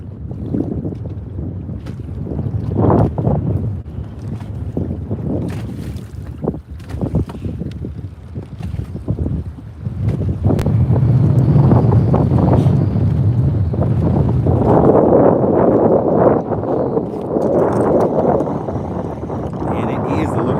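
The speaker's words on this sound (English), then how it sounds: "And it is a little windy out here. Can you guys hear the wind?" Gusty wind buffets the microphone outdoors on Lake Murray while bass fishing, rumbling in uneven bursts that build stronger in the second half, with a voice talking intermittently underneath.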